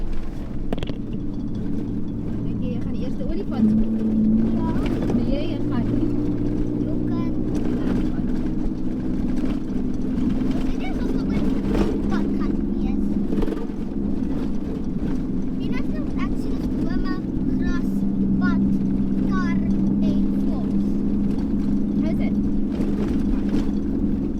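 An overland vehicle drives the corrugated, sandy entrance road toward South Camp in Botswana's Nxai Pan, with a steady engine drone, wind buffeting and rattling bumps running throughout.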